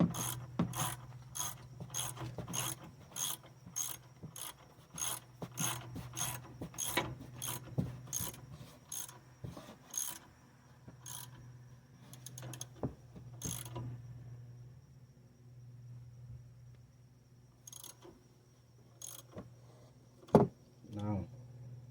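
A ratchet on an 18 mm socket wrench clicks in a fast steady run while a car brake bolt is tightened, then slows to scattered clicks and a sharp knock, close and fairly quiet with speech around it.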